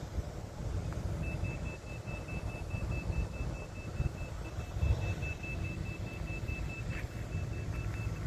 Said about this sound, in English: Somebody over there is beeping.